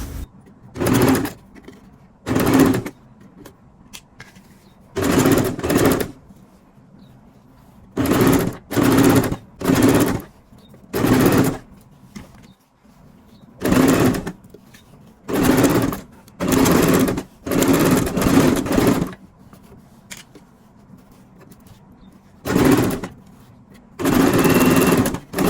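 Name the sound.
sewing machine stitching trouser waistband fabric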